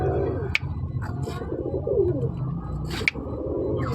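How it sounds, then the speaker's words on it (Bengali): A pair of Andra pigeons coo in low, throaty rolling calls close by, with a couple of sharp clicks or wing flutters between the coos. "খুবই অ্যাক্টিভ পায়রা আছে খুবই সুন্দর পায়রা"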